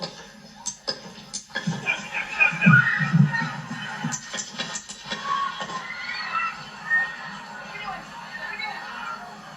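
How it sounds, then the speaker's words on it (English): At an outdoor political rally with a former president, sharp loud bangs ring out amid crowd noise, followed by screams and shouting from the crowd, with voices throughout. "You can hear loud noises ring out in the background, followed by screams from the crowd"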